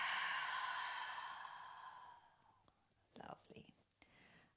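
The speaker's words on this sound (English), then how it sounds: "Taking the deepest breath you've taken all day. So really filling your belly, filling your lungs. And then exhaling it all out." A long, slow exhale of a deep breath during a seated chair yoga session fades gradually from a soft, airy rush into quiet, followed by a few faint breathy movements.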